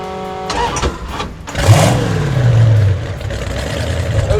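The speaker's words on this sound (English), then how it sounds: "it's a 1958 392 Hemi." A 1958 392 Hemi engine with a blower in a 1934 Plymouth rat rod cranks and fires up, catching into a loud, rough, close idle after a brief starter whir.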